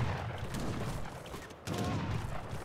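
Mortar barrage in a World War strategy game match, a dense continuous rumble of overlapping explosions and distant gunfire filling the whole stretch, loud and steady.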